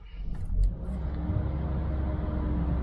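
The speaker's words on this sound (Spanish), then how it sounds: "Está ruge el motor que ya conocemos. No es un motor silencioso" A Nissan NP300 pickup engine turns over and settles into a steady, loud, rough idle, a deep continuous rumble that carries on without pause.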